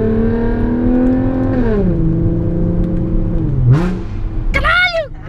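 Audi A7 3.0 V6T with a full stainless Armytrix valvetronic exhaust holds a droning idle, dips, then snaps out two sharp, rising revs near the end while people talk over it.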